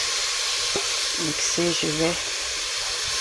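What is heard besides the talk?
blended tomato with white pepper frying in a pot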